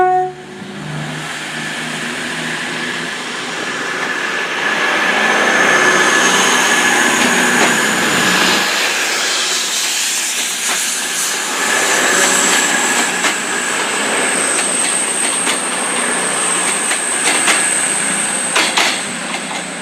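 A Class 159 diesel unit, 159002, pulls away from Exeter St David's station with a steady rising engine drone, wheel squeal and rail clatter, loud and close throughout.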